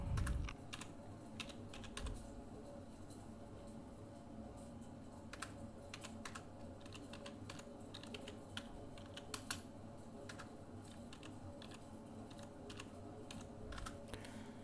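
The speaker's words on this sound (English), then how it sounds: "So let's type that out." Steady typing on a computer keyboard while writing assembly language code, a continuous patter of close, soft key clicks with occasional louder strikes and no speech.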